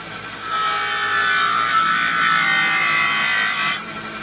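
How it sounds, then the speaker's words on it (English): A file being ground into a homemade knife, the steady abrasive rasp running continuously for about three seconds at close range, with no talk. "where I want to just go ahead and grind and stick it in there and hold it there for a while"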